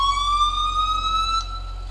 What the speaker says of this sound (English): Yep, this is the Whelan siren.